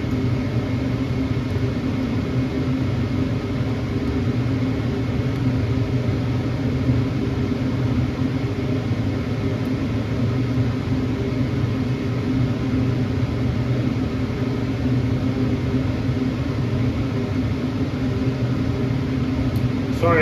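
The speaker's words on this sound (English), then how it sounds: "Sorry about the noise, it's the heater." Heater running in a workshop during an arcade machine restoration, a steady, even mechanical hum and whir with fan-like noise throughout, unchanging for the whole stretch.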